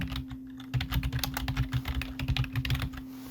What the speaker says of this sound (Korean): 여러분들이 타이핑을 해서 문자를 입력하시면 됩니다